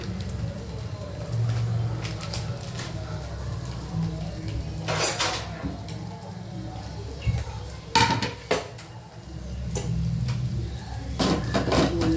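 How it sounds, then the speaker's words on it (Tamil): Egg rice being stirred in a pan, with steady scraping and clinks of a metal spoon against the pan over a soft kitchen background hum and scattered sharper knocks. "இது கூட இன்னும் சோறை போட்டு கொஞ்சம் கிண்டி கொடுக்கணும் பாருங்கள்"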